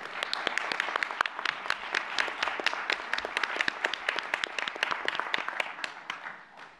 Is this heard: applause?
yes